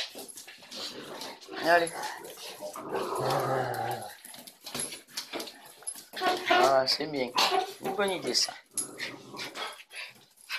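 Dogs whine and yelp close by in bursts, mixed with growly vocal sounds, while someone speaks encouragingly over them.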